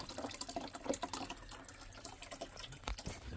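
Water drains from a hot water heater during its removal, making a faint, steady splashing trickle with small irregular gurgles and drips close by, with no voices.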